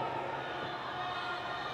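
A wrestling crowd at GalaxyCon Columbus 2023 roars in a steady dense wash, chanting for the wrestler Syndrome, with a commentator talking over the noise.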